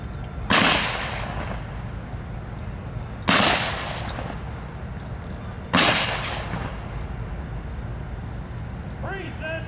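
A rifle volley salute for fallen veterans at a remembrance ceremony: three sharp, loud outdoor volleys spaced about two and a half seconds apart, each trailing off in an echo, with faint commands afterward.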